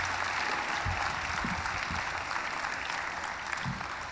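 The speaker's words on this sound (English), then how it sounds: "Let's give them all a round of applause." A graduation audience applauds steadily, dense even clapping from a large crowd at moderate distance, holding for several seconds.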